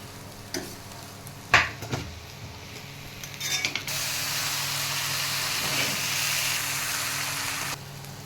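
Chow mein noodles sizzling in a hot wok, with a few sharp scrapes and clanks of stirring early on, then a steady loud hiss of frying that runs for several seconds before cutting off.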